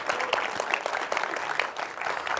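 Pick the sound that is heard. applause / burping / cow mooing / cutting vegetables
applause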